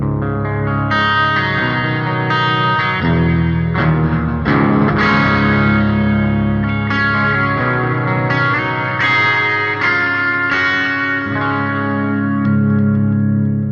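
An electric guitar runs through a BOSS GT-1000 with dual delay and a Terra Echo shimmer effect, playing sustained chords that layer into a thick, washy, echoing sound.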